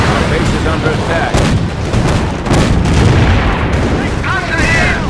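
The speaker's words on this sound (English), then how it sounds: "Count Probéhala can now deploy sector artillery to strike fear to the hearts of the enemy" Sector artillery fire in the Company of Heroes video game, loud repeated booms and blasts forming a dense, continuous barrage with voices talking over it.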